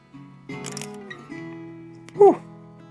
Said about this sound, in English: One of the things that is actually super satisfying about this camera is its shutter sound.